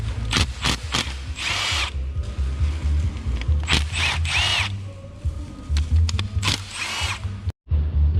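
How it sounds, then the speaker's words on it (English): A power tool whirs in repeated short bursts while backing out 10mm valve cover bolts on a 1993–95 BMW 525i/325i/M3 engine, with ratcheting clicks and rattles between runs, loud and close. "we just have a bunch of 10mm bolts that we gotta take off to remove the valve cover"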